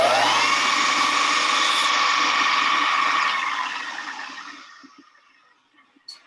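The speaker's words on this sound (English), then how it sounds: "I'm going to turn the lathe on, and I'm just going to scrape a little radius onto the inside of my bore here." A lathe spins a Bb clarinet's wooden tenon while a hand scraper shapes a radius inside the bore, making a high, steady whine that runs for about three seconds and then spins down and fades. A faint click follows, with no talk.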